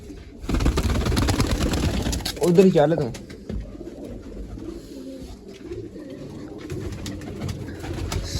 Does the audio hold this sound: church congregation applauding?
no